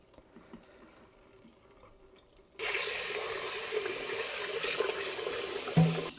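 Basmati rice being rinsed for pressure cooking: after a few faint handling sounds, a kitchen tap opens into a steady loud rush of running water filling a bowl, with a brief splash near the end.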